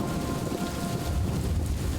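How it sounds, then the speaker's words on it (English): Loud thunder rumbles with heavy rain in the video game Superliminal, a dense, continuous roar that stays close and steady for the whole stretch. "Ooh, thunder loud."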